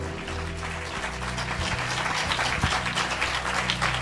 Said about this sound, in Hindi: एक बार उस जीवित परमेश्वर के लिए जोरदार ताली बजा दें।